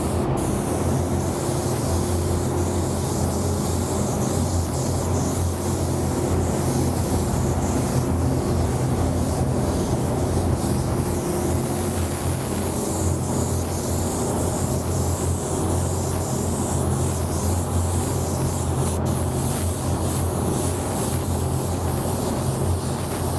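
A spray gun lays down a coat of fluorescent aqua paint with a loud, continuous hiss that holds steady and unbroken for the whole stretch, with no voices.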